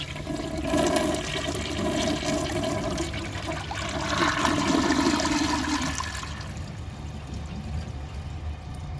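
A 1990s Kilgore low-tank toilet fitted with a Japanese 1.5-inch Inax flush valve flushes with a steady, loud rush of water that swells mid-way, then thins to a softer refill trickle.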